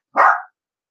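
A single sharp dog bark, close and loud, with silence on either side.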